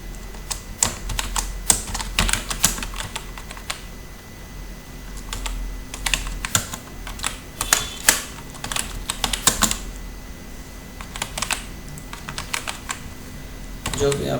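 Clattering bursts of typing on a computer keyboard as C++ file-handling code is entered during a lecture, keys rattling in quick clusters separated by pauses, with someone speaking faintly in between.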